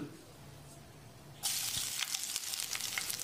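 A sudden loud sizzle bursts in as chopped garlic hits hot oil in a pan, crackling and hissing continuously after a quiet start.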